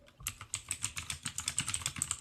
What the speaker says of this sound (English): He's typing it up.